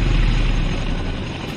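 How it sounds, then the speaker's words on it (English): A Boeing CH-47 Chinook tandem-rotor helicopter powered by twin Honeywell T-55 engines gives off a steady, loud, broadband turbine and rotor roar throughout, with no pauses and no voices. "a pair of Honeywell T-55 engines have powered every Chinook flight since that historic first one"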